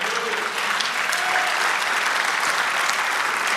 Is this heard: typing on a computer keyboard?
no